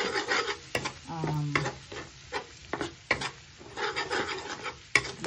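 Pork chop frying in butter with garlic in a pan, crackling sizzle broken by scraping and stirring strokes up close, several sharp clanks of the utensil against the pan.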